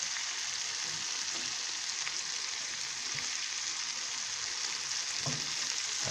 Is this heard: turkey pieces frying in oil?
yes